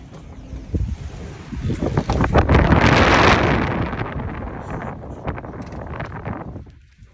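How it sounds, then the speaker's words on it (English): Very strong wind buffets the microphone outdoors, swelling into a loud roaring gust midway and then easing off toward the end. "Super strong wind, guys."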